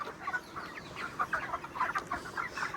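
Chickens on a village poultry farm cluck in a busy overlapping chorus at moderate distance, with short repeated calls rising and falling throughout and no talking.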